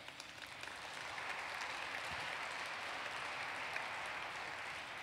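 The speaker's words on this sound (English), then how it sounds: "the applause was well-deserved" Faint, distant applause from a large audience at a formal leadership dinner, a steady wash of clapping that swells in the first second and then holds evenly to the end.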